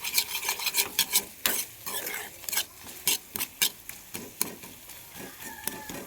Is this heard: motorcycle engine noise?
no